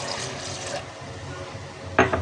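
Water poured in while making beetroot juice with mint, a steady soft liquid flow that ends in a brief louder splash, close by and without talk.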